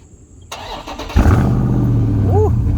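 A Dodge Charger's engine cranks and fires up, a short starter whir followed by a loud catch and a steady rumbling idle with a brief rev, close by, with some faint background sounds before it starts.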